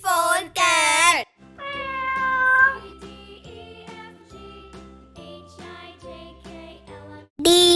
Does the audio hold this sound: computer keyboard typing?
no